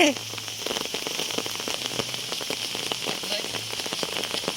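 Steady rain patters on a surface outdoors during a fish-catching outing, a dense close hiss of drops with faint crackling and a brief voice at the start.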